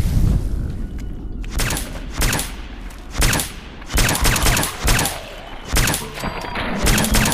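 Gunfire at a feral ghoul in Fallout 4: loud, repeated bursts of shots and booming impacts in rapid uneven volleys, closely spaced over several seconds with brief gaps between bursts.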